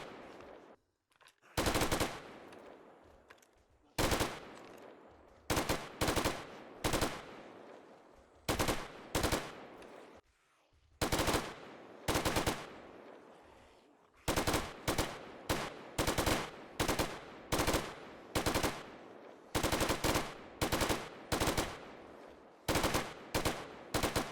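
Light machine gun fire in the video game 7 Days to Die, many loud bursts of rapid automatic shots separated by short pauses, close and dominant with no talk.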